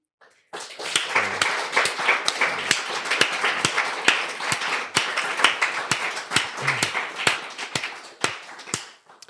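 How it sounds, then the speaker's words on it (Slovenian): An audience at a talk applauds, with many sharp individual claps close by forming a sustained round that starts abruptly and tapers off toward the end. "Hvala za ta aplavz"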